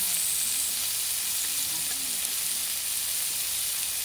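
Continuous close-up sizzling of food frying in oil for a village feast, a dense, even hiss that holds steady throughout with no talking.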